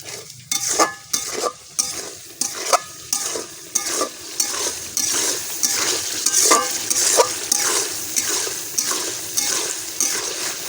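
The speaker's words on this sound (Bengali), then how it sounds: "আমরা আরেকটু কষায় নেব মশলাটা।" Spice paste for a pangas fish curry sizzles in a pan while a spoon scrapes and stirs it in steady rhythmic strokes, close and fairly loud, with no talking.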